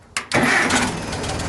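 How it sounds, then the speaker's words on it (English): A Farmall 400 tractor engine cranks with a brief churn and then catches, settling into a loud, steady running rumble up close. "we should start real quick here. Nice little turn of the key."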